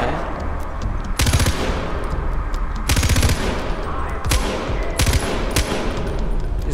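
Automatic gunfire from a gun in Far Cry 4, fired in several sharp bursts of rapid shots about a second apart over a steady game background, loud and close.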